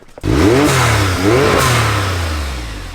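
An off-road vehicle's misfiring engine revs up and drops back twice, uneven and rough, then sags into a lower, fading drone; loud and close.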